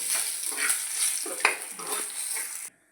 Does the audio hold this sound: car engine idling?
no